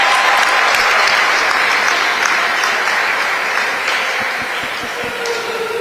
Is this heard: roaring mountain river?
no